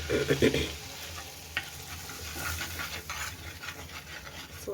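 Kashmiri chilli powder goes into salted butter in a pan, a brief burst of scraping and stirring at the start, then a soft, even sizzle that carries on close by without talk.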